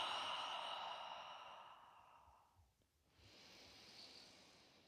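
A slow, deep breath during a trauma-informed yoga session flows out as a long airy exhale that fades, pauses, then another breath rises softly, close and faint with no talking.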